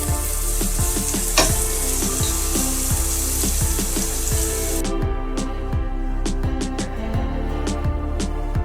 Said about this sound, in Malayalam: ഈ എണ്ണയിലോട്ടേക്ക് വെച്ച ഉള്ളിയും വെളുത്തുള്ളിയും ഒക്കെ നമ്മൾ അങ്ങനെ ഇട്ടതല്ലേ